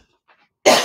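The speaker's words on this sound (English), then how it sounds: "here I am coughing" A single sharp cough bursts out after near silence in a dry room, close and loud.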